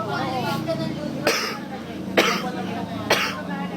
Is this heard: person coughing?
yes